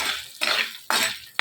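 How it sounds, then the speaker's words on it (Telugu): Corn kernels stirred and fried in a pan with salt and turmeric for homemade popcorn, heard as three scraping, rattling sweeps of a utensil across the pan, close and fairly loud with short pauses between them. "ఇలా కలుపుకుంటూ కొంచెం కలర్ చేంజ్ అయ్యేంత వరకు ఫ్రై చేయాలి"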